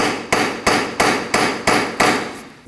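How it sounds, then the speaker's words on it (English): Hammer blows tap the front axle of a 2003-2008 Subaru Forester during ball joint replacement, six sharp metallic strikes at an even, steady rhythm, loud and close with short ringing decays and no talking. "You can tap it with a hammer."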